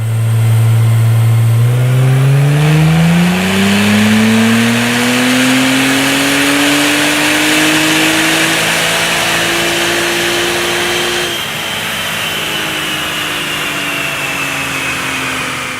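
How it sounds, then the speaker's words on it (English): An Acura NSX fitted with a tuning box and ARMYTRIX exhaust revs hard on a dyno, its engine note climbing steadily in pitch through a long, loud pull before easing off near the end. "We are driving the Acura NSX with our brand new VR Tuned tuning box"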